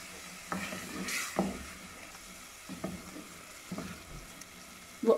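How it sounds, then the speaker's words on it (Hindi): Onion paste frying in hot oil for Multani chickpea curry gives a quiet, steady sizzle, with a few louder spoon stirs and scrapes at intervals. "ऑयल गर्म हो गया, इसमें ये डालेंगे ऑनियन पेस्ट"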